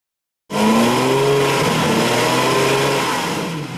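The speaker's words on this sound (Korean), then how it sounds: "주변 사람 찡그리게 만드는 외제 스포츠카의 과장된 배기음." An imported sports car with a loud, illegally exaggerated exhaust revs hard in a city, bursting in abruptly and holding a close, blaring engine roar with a rising pitch before easing off slightly.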